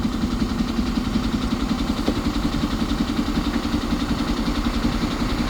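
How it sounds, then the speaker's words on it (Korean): Car engine idling steadily after an engine oil change, a close, even low rumble with a regular pulsing beat and no talk. "이제 시동을 끄도록 하겠습니다"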